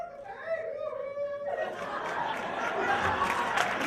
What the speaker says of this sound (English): And the crowd goes wild for him.